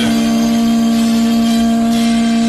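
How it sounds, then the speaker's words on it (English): A conch shell blown in one long, steady, droning note that holds loud and unbroken throughout. "This is the call of the conch shell."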